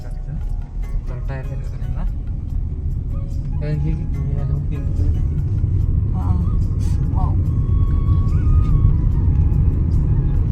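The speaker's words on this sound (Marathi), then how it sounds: "अमोल गाडी चालवते असं वाटतच नाही" A car driven by a learner on a morning road gives a steady low engine rumble from inside the cabin, with people talking over it throughout.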